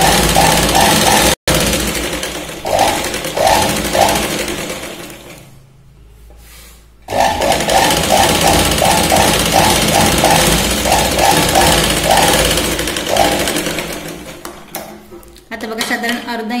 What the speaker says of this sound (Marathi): आता बघा साधारण अर्धा इंचावरती आपण इथे शिलाई लावून घेतली आहे.